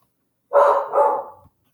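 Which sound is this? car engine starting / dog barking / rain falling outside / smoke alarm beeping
dog barking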